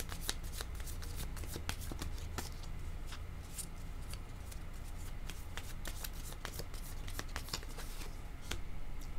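Tarot cards being shuffled by hand, a continuous close riffling and flicking of cards with sharp slaps throughout, no speech.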